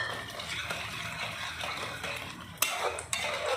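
A spoon stirring cowpea chunk gravy in a pan, soft scraping and gentle bubbling close by with a couple of sharp metallic clinks near the end, with no talk.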